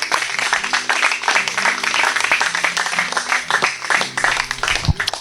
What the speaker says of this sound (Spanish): Dale un aplauso a Yahshua.